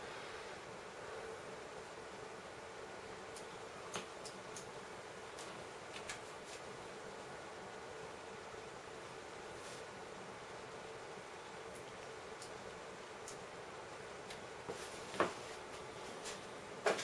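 Broadband computer fans whir steadily as a main PC rig starts up alongside an Nvidia GTX 560 Ti build, a soft constant hiss with a few faint ticks and clicks, moderately quiet throughout.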